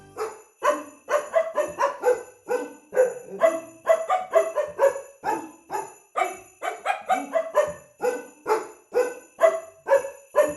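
Puppies bark and yip nonstop in a pet shop, a dense run of sharp, close barks overlapping one after another with no voices.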